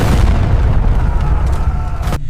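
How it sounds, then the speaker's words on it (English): Cannon fire and musket volleys from a historical Ottoman–Safavid battle sound effect, a loud, rumbling barrage of overlapping booms that rolls continuously before cutting off abruptly. "As the Safavid cavalry rode directly into a wall of simultaneous cannon fire and musket volleys"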